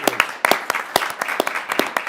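Applause at a city council meeting honors the two-time state champion Bountiful High girls basketball team, a modest room of scattered, uneven claps heard close and clear.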